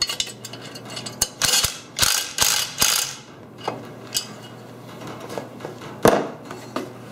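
A socket wrench tightens nuts on a Shopfox mobile base, giving several short runs of close, sharp ratcheting clicks separated by pauses, with scattered lighter clicks and no speech.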